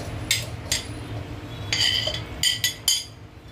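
Mango pieces drop into a steel mixer jar, giving several sharp clinks and knocks spaced across a few seconds, close and fairly clear over a low kitchen hum, with no talking.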